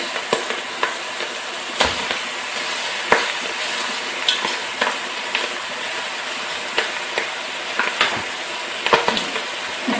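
Chicken pieces for coq au vin browning in a pan, a steady loud sizzle with occasional soft scrapes and taps as pieces are moved, with no talk.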